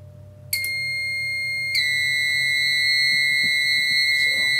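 An addressable fire alarm panel linked to a conventional panel sounds after a pull station is tripped: a loud electronic tone starts abruptly, then a second steady high tone joins and both drone on continuously.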